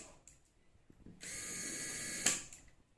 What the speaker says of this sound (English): I'm going to start with the auto shut-off clutch screwdriver.